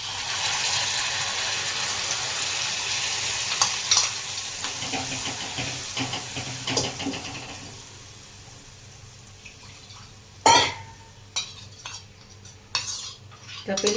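Garlic chutney added to hot oil with a pinch of asafoetida over a low gas flame hisses and sizzles steadily, with a spoon clinking against the pan as it is stirred.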